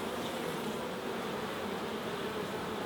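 Honey bees drone steadily at the hive in a dense, continuous buzz that stays close and even throughout, with no voices.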